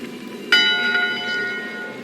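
A ship's bell in the video game Return to Monkey Island rings out once, a bright metallic strike whose clear tone rings on and slowly fades.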